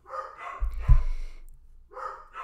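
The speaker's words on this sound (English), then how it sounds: "so I think that's what the dogs could be going crazy over" Dogs bark in a short excited burst, a couple of loud close woofs with some panting, as if reacting to a delivery arriving at the house.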